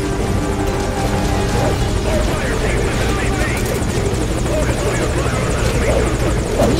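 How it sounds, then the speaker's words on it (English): Helicopter in the Metal Gear Solid Ground Zeroes video game, a loud, close, continuous rotor thump and engine whine steady throughout, with a voice speaking over it. "Chopper."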